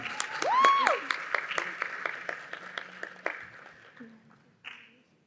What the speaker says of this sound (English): I want you guys to give a round of applause to Zulfa